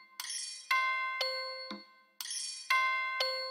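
A sequence of bright, ringing metallic strikes, each with a descending cascade of chimes, mixed with a sharp woody click, repeating in a steady pattern.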